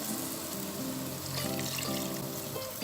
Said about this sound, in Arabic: هضيف عليها كوبايه ميه صغيره